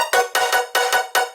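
Bright, buzzy synth chords from two layered sounds in a drop pulse in short repeated stabs, several hits with a rhythmic gap between pairs, loud and layered, with no voices.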